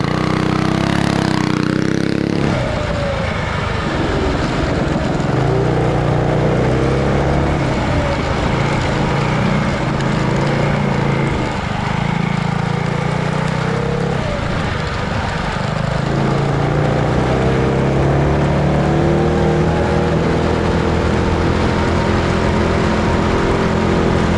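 A custom full-suspension mini dirt bike engine runs loud and close throughout its first ride, a steady torquey drone with rising and falling revs and no talking.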